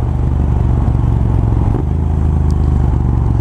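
A Triumph Scrambler 900 motorcycle with a changed rear sprocket cruises at about 60 mph near 3,300 RPM. A loud, steady engine drone blends with rushing wind noise and does not let up.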